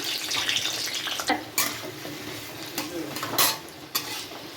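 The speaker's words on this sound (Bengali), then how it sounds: "তেলটা গরম হয়ে গেছে, আলুগুলো ছেড়ে দিই।" Potatoes go into hot oil in a home kitchen while chicken korma is being made, giving a steady close sizzle broken by several sharp clinks and scrapes of a utensil against the pan.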